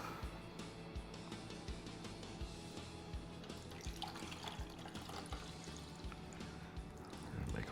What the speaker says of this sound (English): Now we're going to pour this off